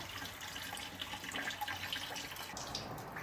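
Coolant from a Subaru WRX wagon radiator (JDM EJ205 engine) draining out in a steady, continuous splashing stream, close and unbroken, with no talking.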